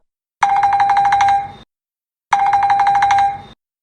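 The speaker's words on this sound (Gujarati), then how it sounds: "સરપંચ નો ફોન આવ્યો" A telephone rings in two identical, loud, close bursts, each about a second long, with a short silence between them and no voices.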